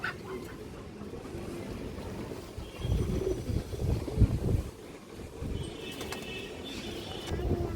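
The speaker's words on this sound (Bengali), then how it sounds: "এই দেখেন খুবই হাই কোয়ালিটির কবুতর, কাজলা গিয়ারের।" Kajla pigeons coo in low, throaty bursts, close by, over a rough rush of wind noise. The cooing swells in the middle and toward the end.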